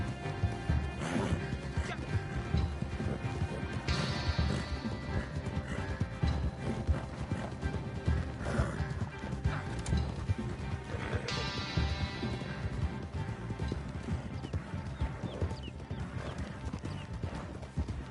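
A horse in the Red Dead Redemption 2 Online video game gallops with rapid clip-clopping hooves, and loud whinnies break out at intervals. Game effects and occasional talk sit underneath.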